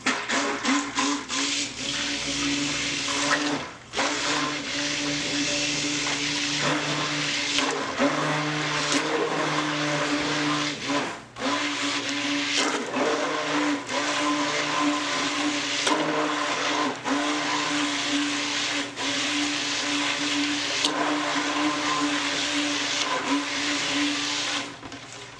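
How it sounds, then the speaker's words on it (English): Stick blender whirring through cold-process soap batter of Himalayan salt and coconut milk, a loud continuous motorized drone with brief dips where the blade pauses, running steadily throughout. "So I'm just going to stick blend it so it gets it all nice and mixed up."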